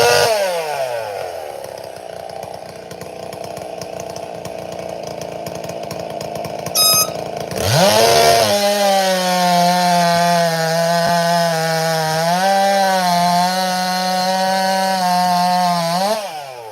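A Neotech clone chainsaw at a saw festival, first idling and revving, then cutting wood under full load with a loud, close, sustained high-pitched whine that dips and recovers until the cut ends.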